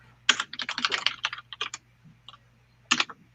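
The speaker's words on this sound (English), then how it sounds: "I'm typing it." Rapid bursts of typing on a computer keyboard, a close, clattering run of keystrokes, a short pause, then a few more clicks.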